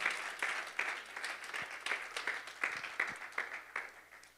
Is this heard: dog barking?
no